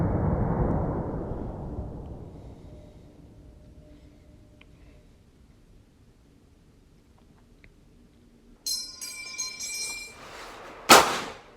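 An M1 Garand rifle outdoors ejects its en-bloc clip: a loud rumble fades at the start into near silence, rustling follows, then a sharp, bright metallic ping rings out near the end.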